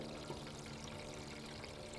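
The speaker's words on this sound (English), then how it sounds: "I just dump it out into another plant if there's anything left in the tray here." Liquid worm casting solution poured out of a small seedling tray into a plant, a steady close splashing trickle that runs evenly throughout with no talking.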